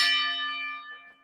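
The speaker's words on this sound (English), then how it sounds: "Ringing the bell there" A single ringing bell strike with clear sustained harmonic tones, loud at first and then slowly decaying over about a second, heard alone with no talk.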